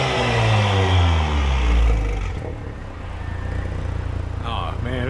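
A B9 Audi S5 with a catless downpipe, front resonator delete and mid muffler delete revs up loudly nearby with a deep, rising engine note, then settles into a rumbling idle, with a voice briefly heard over it.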